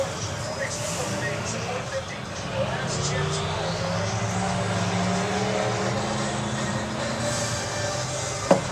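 Figure 8 race cars lap a night track at Perris Auto Speedway, engines roaring and rising as they pass amid a continuous crowd-and-track wash, under an announcer calling the race over loudspeakers.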